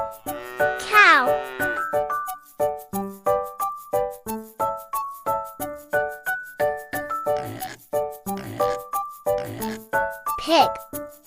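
A pig grunts and oinks over a bright, plinking children's tune with a steady bouncy beat, the squealing snorts rising out clearly in a few bursts while the music keeps going underneath.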